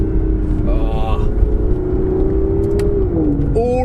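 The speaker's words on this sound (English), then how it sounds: "you can really hear that 177 derived exhaust system crackling" Aston Martin Vanquish with a 177-derived exhaust revving up through the gears, a loud steady engine drone with rising pitch sweeps and brief crackles near the end, close and continuous.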